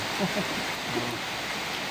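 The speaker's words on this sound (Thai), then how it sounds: "บรรยากาศฝนตกพี่น้องเลย" Rain falls steadily outdoors as a constant broadband hiss, with a voice briefly heard over it.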